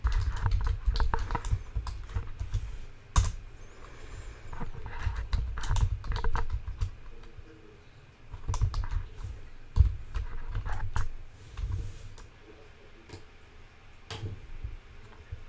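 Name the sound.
typing code on a computer keyboard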